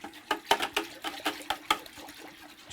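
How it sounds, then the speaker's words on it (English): A regular metal whisk stirs a nutrient solution of diluted tap water, giving a run of quick watery sloshes and clinks at an uneven rhythm, close and fairly clear. "and I use a regular metal whisk"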